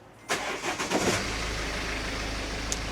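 A BMW F36 fitted with a tuning box cranks briefly and fires up, its engine catching after a few uneven bursts and settling into a steady, close idle.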